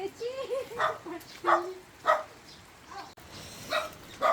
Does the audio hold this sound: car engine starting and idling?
no